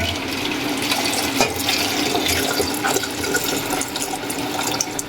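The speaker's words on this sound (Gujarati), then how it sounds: "એક તપેલી ભરીને પાણી નાખશું" A pot of water is poured into a large pan while cooking lapsi, a Gujarati sweet, giving a steady, close splashing rush of liquid that runs for the whole stretch without talk.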